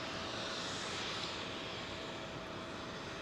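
A Boeing 777 auxiliary power unit runs on the ground at London Heathrow, a steady, distant, faint whining roar with a constant tone and no breaks.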